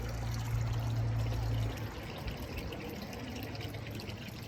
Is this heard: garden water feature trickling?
yes